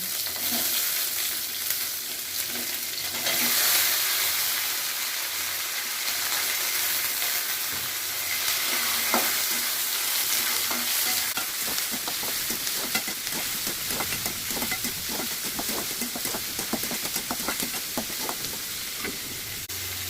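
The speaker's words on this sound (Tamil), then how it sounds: "அதனுடன் எடுத்து வைத்த காய்ந்த மிளகாய், பெரிய வெங்காயம் மற்றும் தக்காளியை சேர்த்து நன்கு வதக்கவும்." Dried chillies, onion and tomato sautéing in a pan for hotel-style chutney, a steady loud sizzle and frying hiss with stirring scrapes growing more frequent in the second half, no voices.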